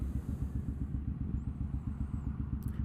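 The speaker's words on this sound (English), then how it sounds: "Damn kids on them sport bikes." A sport bike engine rumbles low and steady nearby in a throbbing pulse, with a brief faint sound at the end and no talking.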